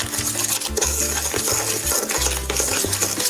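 Sugar being mixed into a strained egg custard base, a continuous close scraping and clinking of a utensil against the bowl, with rhythmic low pulses from steady stirring and no talking.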